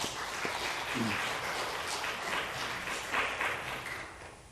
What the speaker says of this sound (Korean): 다시 한번 박수 한번 합시다.